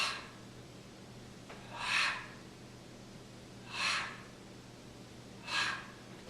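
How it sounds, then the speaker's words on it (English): Three spaced, exaggerated breaths during a lower-body mobility exercise loosening the hip flexors and psoas, each a soft airy whoosh about two seconds apart over a quiet background hum. "So I'm going to exaggerate the breathing."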